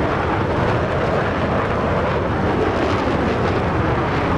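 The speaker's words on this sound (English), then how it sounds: "Also, the J-15s are taking off." Chinese J-15 carrier jets taking off in a naval war game, a loud, dense, steady roar of jet engines filling the whole stretch with no voices.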